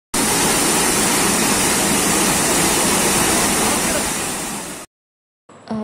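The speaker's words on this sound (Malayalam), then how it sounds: "ഇതാണെങ്കിൽ നമ്മൾ പോകുന്ന വഴിക്ക് അവിടെ ഒരു വെള്ളച്ചാട്ടം കണ്ടപ്പം അവിടെ നിർത്തിയതാണ് കേട്ടോ." A waterfall beside the road on the way to see Neelakurinji roars as a loud, dense, continuous rush of water, close by, then cuts off abruptly before a brief sound at the end.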